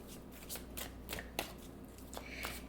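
Tarot cards are shuffled by hand in a series of quick riffling bursts with soft slaps between them, close and fairly quiet, with no talking.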